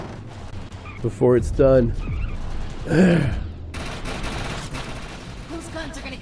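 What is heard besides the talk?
automated guns firing in the video game Defiance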